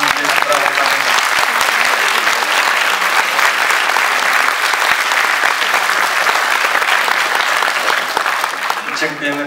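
Sustained audience applause at a church Passion play performance, loud and steady throughout, fading slightly at the very end.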